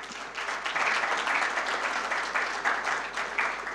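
An audience applauds a minister at an official gathering in Côte d'Ivoire, a dense, steady wash of clapping from many hands lasting several seconds at moderate distance.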